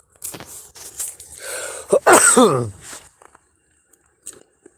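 A wet, phlegmy cough bursts out in a few harsh hacks, followed by quieter scattered sounds and near silence.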